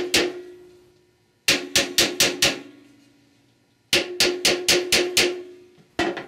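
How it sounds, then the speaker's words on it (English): Hammer tapping on a Chrysler 46RE transmission shaft, sharp metallic strikes in two quick clusters of five or six taps, then a single hit, each ringing briefly and close. "Tapping with a hammer in this area of the shaft will adjust the alignment."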